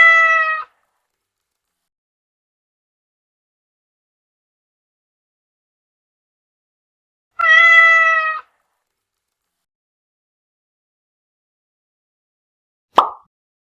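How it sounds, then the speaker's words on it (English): A cat gives two clear, separate meows several seconds apart against silence, then a short plop sound at the end. The meows are close and crisp. "cat,"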